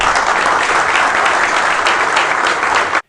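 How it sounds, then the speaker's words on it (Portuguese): A large crowd applauds the team at full volume for about three seconds, dense continuous clapping that stops abruptly at the end. "uma grande salva de palmas para todos nós"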